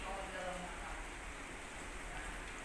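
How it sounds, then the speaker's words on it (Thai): Rain falls outside a railway passenger carriage factory as a faint, steady hiss with no clear breaks. "เพราะว่าฝนก็กำลังตกอยู่นะครับ"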